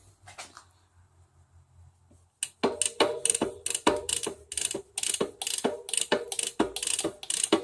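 A rag is drawn through the cassette of a Catrike recumbent trike, turning it so the freewheel ratchets in a fast run of close, sharp clicks after a quiet opening, with pawl clicks coming in rapid bursts.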